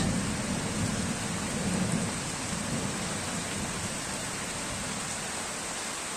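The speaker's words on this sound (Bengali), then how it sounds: "বৃষ্টির দিনে টিনের চালের উপরে যে বৃষ্টির ফোঁটাটা পড়ে, আওয়াজটা হয় টিনের উপর, সেটা দারুণ লাগে শুনতে আমার।" Steady rain drums on a tin roof in a rural setting with guava and neem trees, a dense, continuous patter with a low rumble that holds evenly throughout, close and fairly loud.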